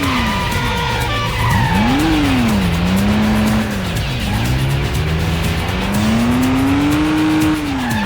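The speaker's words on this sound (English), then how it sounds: "Handbrake turn." A car in the PS2 stunt-driving game Stuntman makes a handbrake turn, its tires squealing in long sweeping skids over a loud, continuous engine roar that rises and falls, with no talk.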